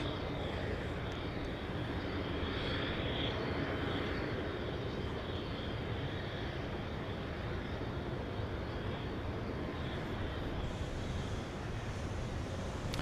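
Aircraft engine noise from an airplane arriving from Kansas City at Dallas Love Field, a steady broadband roar with wind that holds at a fairly even level throughout, with no voices.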